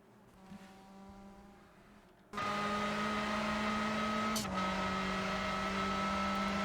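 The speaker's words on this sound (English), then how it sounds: "it's got a really good kind of really whiny but throaty sound that TCR cars do have" Audi RS3 TCR race car engine in the Rennsport racing game, a whiny yet throaty tone that starts quietly, then jumps to a loud sustained drone at high revs with a brief upshift-like dip partway through.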